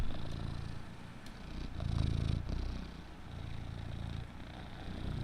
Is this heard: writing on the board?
no